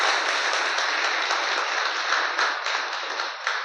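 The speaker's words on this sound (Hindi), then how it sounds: "एक बार आप लोग इस विद्यालय परिवार के जोरदार ताली बजाइए।" Audience applause at a school gathering, steady, dense clapping from many hands sustained evenly for several seconds, fairly loud and with no talk over it.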